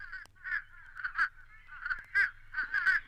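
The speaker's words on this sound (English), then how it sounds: "fish crows always sound a bit nasal to me" A fish crow gives a rapid series of short, nasal caws, about eight in a row, fairly close and alone.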